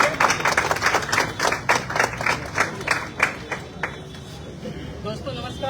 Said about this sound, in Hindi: तो मैं चाहूंगा एक बार जोरदार तालियां